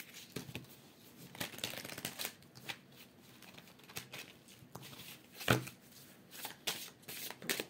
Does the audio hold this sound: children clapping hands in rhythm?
no